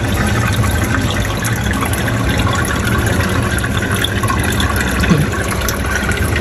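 Water pours steadily into an indoor aquarium tank during weekly maintenance, a continuous loud splashing gush that holds unbroken for several seconds, with no talk over it.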